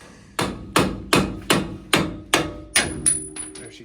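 A hammer drives a punch to free coil spring strut parts, striking seven evenly spaced metallic blows up close, followed by a faint ringing tail.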